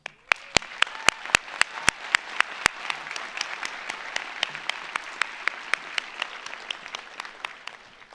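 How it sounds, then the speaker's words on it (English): Audience applause at a spring commencement ceremony in Ames, a steady wash of many hands clapping with a few sharp, close claps cutting through near the start, sustained evenly throughout. "let us all give them a round of applause"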